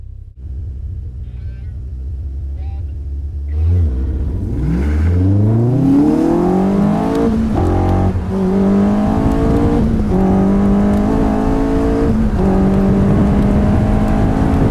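Caterham sports cars with Duratec, K-Series and V8 Mercedes engines drag racing down a quarter mile: an engine idles low, then roars loud as it launches and revs through rising gear changes, a close, continuous howl.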